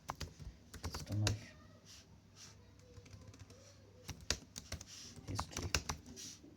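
Fingers type on a computer keyboard during an online PostgreSQL class, with quick irregular bursts of clicking keys under occasional quiet talk.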